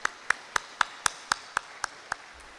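Audience welcoming a minister at a ship plate cutting ceremony with about ten evenly spaced single claps, sharp and distinct, fading slightly toward the end rather than a full applause wash.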